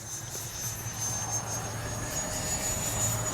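An E-flite Viper 64mm electric ducted-fan RC jet whines steadily overhead through a loop, its high-pitched fan tone holding at moderate distance with a faint low rumble beneath.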